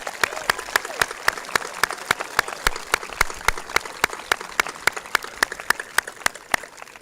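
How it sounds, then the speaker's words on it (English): Steady, evenly spaced hand claps ring out in a large hall at a Sodus school graduation ceremony, sounding like a modest audience applauding at a moderate distance. "Please join me in giving them a round of applause"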